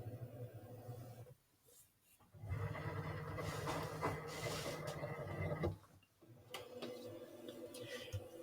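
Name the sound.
cutting machine loading mat and measuring material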